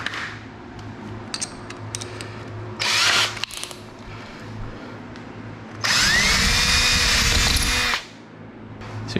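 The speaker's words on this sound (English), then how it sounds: "So you drill that out with a 5/16." A power drill with a 5/16 bit whirs in two bursts, a short one and then a longer, louder high-pitched run that winds down, drilling out a hole on a Hobie 16 catamaran, with quiet handling noises between.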